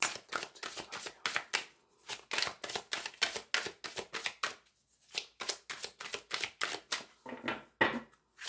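Oracle cards being shuffled for a tarot reading, a quick series of crisp riffling bursts in steady rhythm, close and alone, with a short pause midway before the shuffling resumes.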